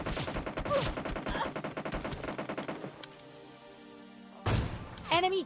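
Gunfire in the PUBG Lite battle royale game: a rapid burst of shots over the first three seconds, then a brief lull and a couple of louder sharp reports near the end, fairly faint overall.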